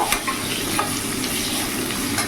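Salt and turmeric powder stirred into a thin rohu fish curry with lentil dumplings, a steady close sizzle and bubbling with soft scraping strokes throughout, no voices.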